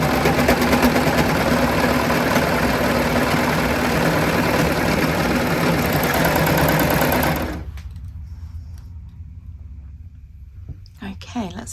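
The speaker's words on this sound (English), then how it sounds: "we're just going to do a standard overlocker stitch" An overlocker sewing machine stitches scrap fabric with a loud, steady, high-speed mechanical whir. The whir stops abruptly partway through and leaves a quiet room with a few faint clicks.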